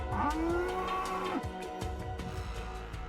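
A cow lows once in the Fallout: London mod, a loud, close, drawn-out moo with a rising then falling pitch lasting over a second, followed by quieter farmyard background.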